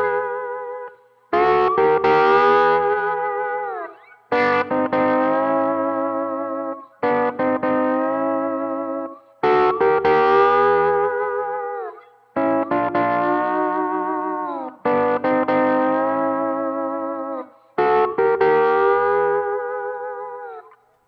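A slide guitar moves chromatically up the neck with a country pedal-steel character, playing eight separate distorted, echoing phrases with short gaps between them, each note gliding into pitch.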